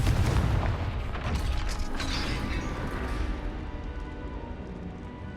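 A Confringo blasting spell goes off in the Hogwarts Legacy video game, a loud rumbling boom with creaking, mechanical clatter that stays steady and dense across the whole stretch without fading.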